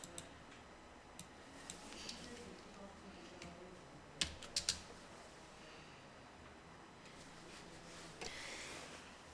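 Keystrokes on a computer keyboard while an Excel formula is typed, heard as faint scattered clicks with a few sharper taps, under quiet low talk in a still room.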